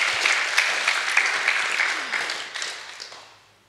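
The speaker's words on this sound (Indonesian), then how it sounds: "Tepuk tangan untuk Javier." Audience applause at a youth church service fills the room with dense, steady clapping that gradually fades out over a few seconds.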